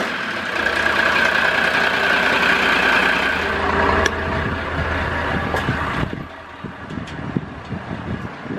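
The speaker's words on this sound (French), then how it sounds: "je disais un Perkins de 150 chevaux" A Perkins 150 hp diesel aboard a 2007 Pedro Levanto 44 Dutch steel river cruiser runs at a steady idle, a loud continuous low rumble with a hum on top, easing off slightly near the end.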